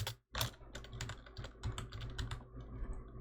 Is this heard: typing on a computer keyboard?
yes